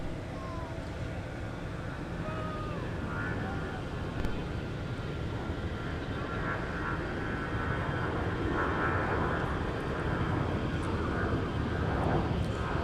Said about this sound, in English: You got the 330 on the left. You got the E175 LR on the right.